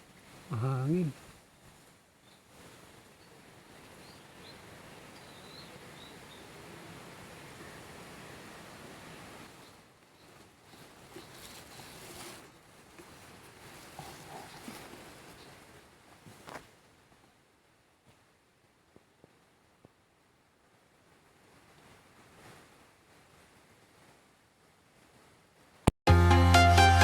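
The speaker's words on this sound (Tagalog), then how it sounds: "Mahangin." Wind blows across an open outdoor spot during an airgun hunting outing, a soft broadband rush that swells and fades in gusts, quiet overall with long near-silent gaps and a few sharp knocks.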